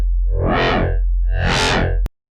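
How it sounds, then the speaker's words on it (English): A wavetable synth with a sine-wave wobble shape on its main oscillator plays two loud, distorted swells that rise and fall in brightness, then cuts off abruptly before a brief restart. "I'm going to have a sine wave kind of wobble shape on the main oscillator."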